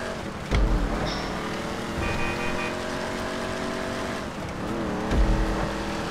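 Muscle car engines roar through a snowy race in GTA 5, a steady droning engine note with shifting pitch and two heavier thumps from impacts, no talking.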